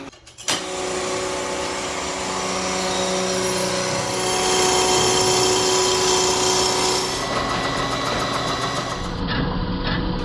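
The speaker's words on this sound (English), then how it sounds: "He's boring the cylinder for bigger sleeves." A boring machine cuts out an engine cylinder for larger sleeves in a motorcycle race shop, giving a steady, loud droning whine with a tonal hum that runs continuously throughout, no talking.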